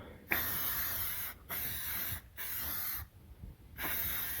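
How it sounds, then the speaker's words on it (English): Several short bursts of hissing cleaner spray onto plastic parts of a Kawai K4 keyboard follow one another at close range, with brief pauses between the squirts. "Let's just spray a bit on."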